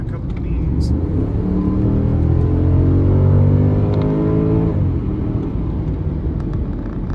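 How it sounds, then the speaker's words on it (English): The naturally aspirated V8 of a Porsche Panamera 4S in sport mode gives a loud, steady low grumble that rises in pitch as the car accelerates, then settles back into a deep rumble, heard from close by. "these naturally aspirated V8s have a nice little low grumble to them when you're driving sportingly"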